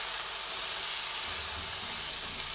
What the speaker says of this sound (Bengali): সব একসঙ্গে ভালোভাবে নাড়াচাড়া করে নিচ্ছি।